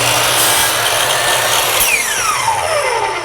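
A power saw slices straight through wood, a loud close whining buzz with a falling pitch sweep toward the end of the cut.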